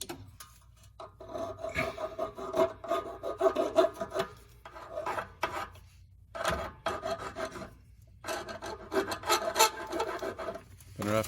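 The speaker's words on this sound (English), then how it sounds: "Got rough edges. I'm going to try and clean them up a little bit with a file." Hand file rasping back and forth over the rough cut edges of a plastic rear AC delete cap on a Dodge Caravan, in repeated close strokes with brief pauses between bursts and no talking.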